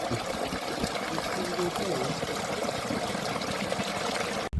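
A 1500W BLDC solar borewell pump drawing from about 350 feet through a 50mm outlet delivers water in a steady, loud gushing rush that runs continuously, with someone talking over it.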